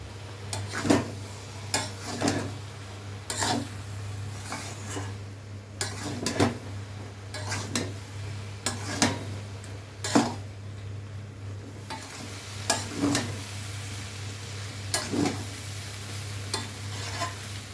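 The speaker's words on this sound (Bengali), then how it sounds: "ভালো করে কষিয়ে নিয়েছি" Taro stolons (kochur loti) being stirred and fried in a pan, with a steady low sizzle under repeated sharp scrapes and clanks of a utensil against the metal, spaced irregularly throughout.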